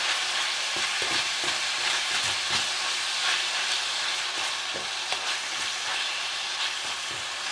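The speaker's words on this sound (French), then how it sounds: "là on est à la moitié de la cuisson de la viande" Beef for burritos fries in a pan with a loud, dense, continuous sizzle. Soft scraping stirs and small pops run underneath throughout.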